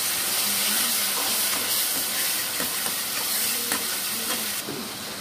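Country chicken frying in a pan with ginger garlic paste, stirred continuously, giving a steady sizzle and hiss with soft scraping strokes throughout, loud and close with no talking.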